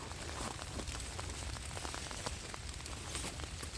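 Steady rain patters down through a German forest in winter, a dense, even hiss of drops striking leaves and ground, continuous and close with no voices.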